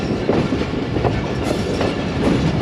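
A Rehman Baba Express passenger train runs on rails between Rawalpindi and Lala Musa, giving a steady, loud rumble with rhythmic clickety-clack of the wheels throughout and no talk.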